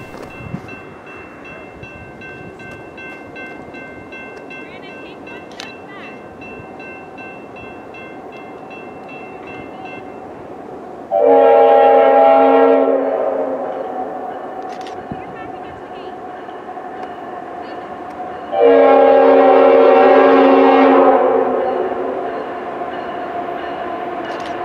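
CSX freight train Q409 passes at night with a steady rolling rumble, and two long, loud horn blasts sound several seconds apart, each trailing off, over faint background noise.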